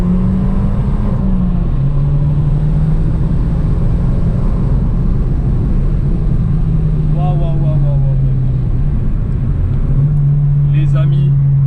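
Fiat 500 Abarth pulling hard down a straight, its engine droning loud and steady up close with shifts in pitch as it climbs through the gears, with talk over it.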